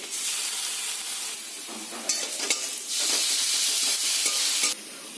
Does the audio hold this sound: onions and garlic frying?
yes